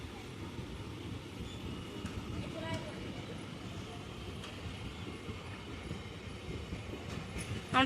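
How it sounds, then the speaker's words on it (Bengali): A train passes through a railway station, with a steady rumble of wheels and carriages running throughout at moderate distance, and people talking faintly in the background. "এই যে ট্রেন"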